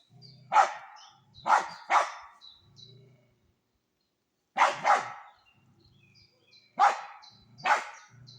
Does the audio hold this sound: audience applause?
no